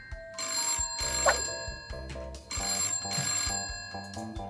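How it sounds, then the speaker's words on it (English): A telephone rings in Christmas Shopper Simulator, a video game: repeated ring bursts in a steady rhythm over a bed of game music, loud and close, with no talk. "Answer the phone."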